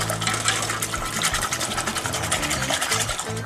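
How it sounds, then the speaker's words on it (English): Whisk stirring flour into melted butter and milk in a pan for a roux-based sauce, a continuous close scraping and swishing with a steady low hum underneath. "we're just going to whisk that through until all the flour is completely dissolved"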